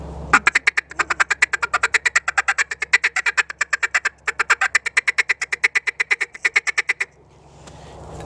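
A duck call blown in a fast feeder cadence, a rapid unbroken string of sharp, loud quacking notes that runs nearly seven seconds with one brief pause, close and alone with no talk.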